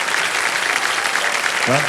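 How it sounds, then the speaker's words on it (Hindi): A studio audience on the quiz show KBC claps in a dense, loud, continuous burst, with a brief voice rising near the end. "तालियां बजती रहे उनके लिए।"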